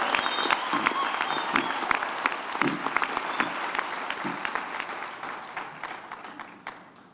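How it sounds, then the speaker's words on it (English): A round of clapping breaks out at a university summer graduation ceremony, with crisp, distinct hand claps from the gathered crowd that gradually thin and fade toward the end. "I really want us to give them a round of applause"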